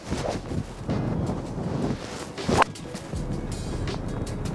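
Strong wind gusting across an open golf course, buffeting the microphone with a steady roar and bursts of rumbling noise, plus a brief sharp sound near the middle.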